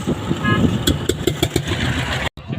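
A vehicle engine rumbles past through steady background noise at a ferry crossing in Bangladesh, with a few sharp clanks along the way.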